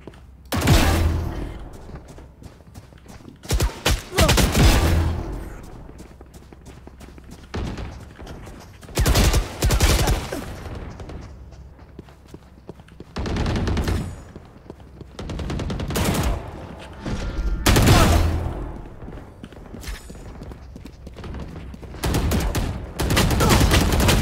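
Gunfire in deathmatch practice in a shooter video game: repeated loud bursts of rapid automatic fire and single shots in irregular clusters, with brief quieter gaps, going on throughout.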